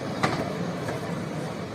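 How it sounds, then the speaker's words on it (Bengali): A long special passenger train carrying pilgrims to an Urs festival in Bangladesh rolls past, a steady close rumble with a brief clack near the start. "বিশাল এক ভাতৃত্বের প্রায় এক কিলোমিটার দৈর্ঘ্যের ট্রেন পুরুষ যাত্রী স্পেশাল ট্রেন"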